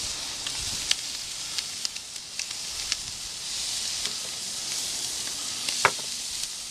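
Jerk chicken pieces sizzling skin down on a hot, oiled grill grate: a soft continuous hiss dotted with small pops and crackles, close and unaccompanied.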